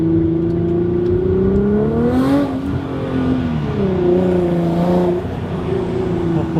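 A 705 hp Nissan R35 GTR accelerates hard onto a highway, its engine note climbing through the gears with two clear rising pulls and a shift between them, loud and close from inside the car.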